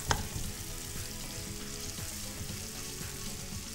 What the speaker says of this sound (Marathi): कांदा आपल्याला तेलात टाकल्यानंतर थोडा ब्राऊन होऊन द्यायचा आहे तोपर्यंत व्यवस्थित परतून घ्यायचा आहे कांदा